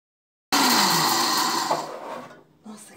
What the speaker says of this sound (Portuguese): agora pode liquidificar ou processar, mas faça aos poucos, no pulsar, para não quebrar o seu aparelho